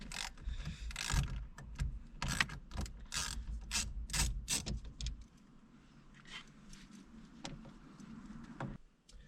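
A ratchet clicks in quick bursts while backing out the bolts holding a door speaker in a 2014 Ford Mustang GT, close and fairly loud, with a few metallic clinks between strokes.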